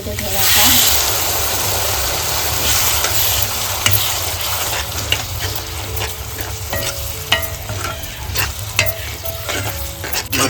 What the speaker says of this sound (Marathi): हा आपला वाटप केलेला मसाला घालून घेते कांदा खोबऱ्याचा